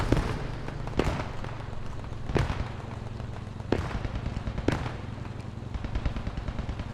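Bursts of automatic machine-gun fire from a video game battle, with sharp reports at irregular intervals over a steady rumbling background of distant gunfire and ambient noise.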